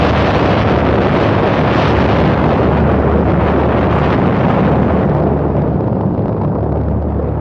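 A documentary effect of the atomic bomb exploding over Hiroshima: a loud, sustained roaring rumble that fills the whole stretch without a break, with no voices over it.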